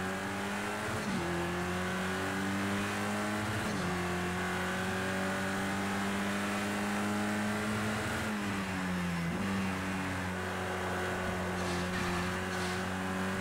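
Touring car engine in Project CARS 2 racing game, loud and continuous, revving high then dropping sharply on downshifts near 1, 4 and 8.5 seconds before climbing again, with faint tire noise.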